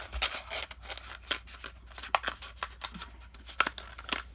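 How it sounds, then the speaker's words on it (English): Paper treat holder being folded along score lines and pinched by hand, giving soft, close crinkles and scraping rustles in short repeated bursts, with no talking. "we'll go ahead and just fold that down and pinch those score lines"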